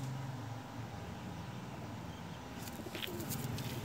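A breeder female Pakistani pigeon coos softly and at a distance against steady background noise, with a few faint chirps toward the end.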